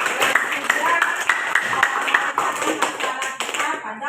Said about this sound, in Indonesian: Oke, kita berikan tepuk tangan yang